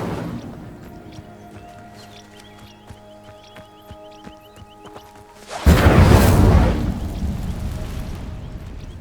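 A fire spell in a fantasy video game sets dry vines alight, bursting into a loud, roaring crackle of flame after a quieter stretch of plucked, rhythmic game music.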